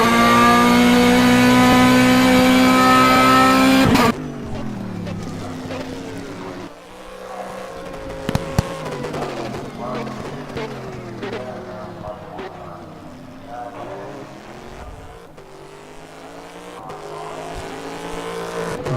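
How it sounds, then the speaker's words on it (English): Red Ferrari race car in a racing video game, its engine droning and shifting pitch through gear changes after a loud opening burst, with speech-like tones mixed in. "Driving the Ferrari, the red Ferrari."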